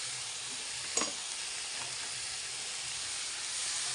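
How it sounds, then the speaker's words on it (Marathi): Dill greens (shepu bhaji) sauté in a hot pan with salt, giving a steady, close sizzling hiss. A single spatula clatter against the pan cuts through near the start. "हे पण भाजी टाकून मी परतून घेते"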